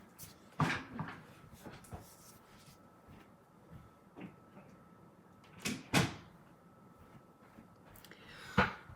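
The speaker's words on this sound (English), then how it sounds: "Oh, I have to even shut my door." A door is shut indoors on a Saturday morning, with a few sharp knocks and thumps spaced over several seconds against an otherwise quiet room.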